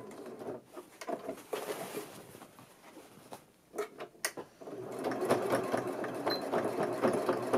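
A sewing machine runs short bursts as it reverse stitches over the start of a topstitched pocket seam, with brief pauses and handling noise in between before a steadier, closer run of stitching.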